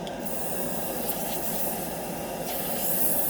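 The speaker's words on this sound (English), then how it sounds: "when I'm airbrushing, you spray the cloth and you can see it's coming out clear" An airbrush sprays lacquer thinner onto a cloth while painting scale models. It makes a continuous close, airy hiss with slight swells, with no talking.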